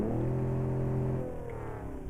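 Engine of a Barstow car in the BeamNG.drive video game revving, a loud held tone that drops off partway through into a lower, rougher idle rumble with no talk.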